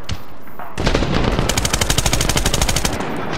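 Automatic weapon fire in the video game Medal of Honor, a rapid rattling burst of shots lasting a couple of seconds after a brief quieter lead-in.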